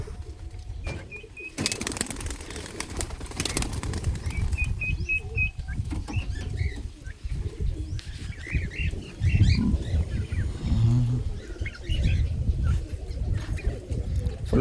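Breeding pigeons coo steadily in a loft, with low repeated coos, occasional wing flaps and shuffling nearby.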